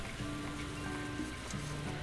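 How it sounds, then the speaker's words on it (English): Rain falls steadily in a video game scene, a dense continuous patter on surfaces with faint tonal background music underneath and no talking. "Oh, it's raining."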